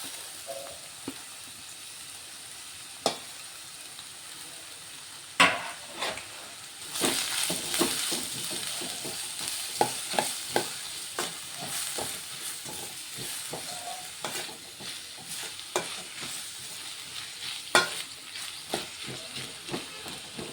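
Five sliced onions frying in hot oil give off a continuous sizzle, close and moderately loud, punctuated by sharper crackles and the scrape of stirring throughout.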